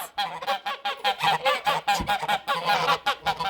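Geese honk repeatedly in a noisy, overlapping chorus, loud and close, with no pauses.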